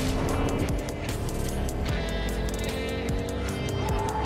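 A car driving in a video game, its engine droning loud and steady with a busy layer of game sound mixed in throughout.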